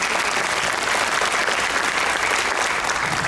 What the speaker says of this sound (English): could everybody give her a round of applause?